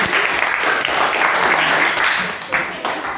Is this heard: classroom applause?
yes